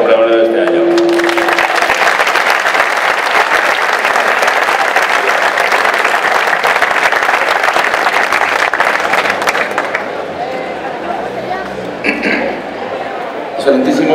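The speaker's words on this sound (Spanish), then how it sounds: "Os pido un fuerte aplauso para nuestro pregonero de este año." An audience at the La Guinda town festival in Villarcayo applauds the year's festival speaker with long, dense, loud clapping that thins out near the end as a voice begins speaking.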